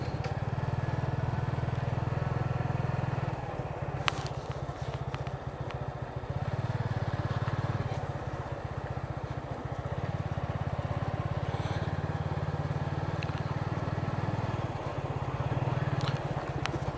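A motorcycle rides through village roads in Alinagar Union, Sylhet, Bangladesh, its engine a close, continuous low drone that swells and eases with throttle, with occasional faint clicks and rattles along the way.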